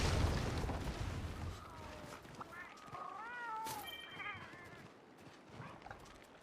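Several short, high-pitched cartoonish meows chirp over busy game sounds and a low rumble, with background noise throughout.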